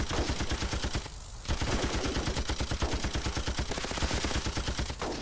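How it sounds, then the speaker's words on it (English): Sustained machine gun fire in a first-person shooter game, a rapid rattling stream of shots with one brief pause, loud and continuous throughout. "You know what, just use the machine gun."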